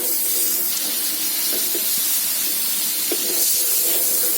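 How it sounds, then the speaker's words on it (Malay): Margarine heats in a hot wok, giving a steady, even sizzle and hiss with a few faint crackles, heard alone without any talking. "Panaskan mentega di dalam kuali."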